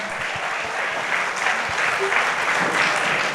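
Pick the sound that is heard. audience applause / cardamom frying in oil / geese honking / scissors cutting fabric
audience applause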